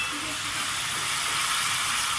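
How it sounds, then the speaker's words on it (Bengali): Hot water poured into a frying pan of prawn and okra curry, giving a steady, close, loud hiss and sizzle that holds evenly throughout. "এবার দিয়ে দিচ্ছি পরিমাণ মতো গরম জল।"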